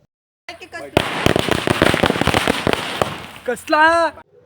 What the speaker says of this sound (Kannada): ಪಟಾಕಿ ಎಲ್ಲ ಪೂರ್ತಿ ಹೊಡೆದಾಗೈತೆ